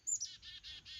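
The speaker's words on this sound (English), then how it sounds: "the birds seem to like them quite a bit" Wild birds chirp while feeding on shelled peanuts and sunflower seeds, giving a quick run of high, bright tweets in short bursts, close and fairly soft, with no voices.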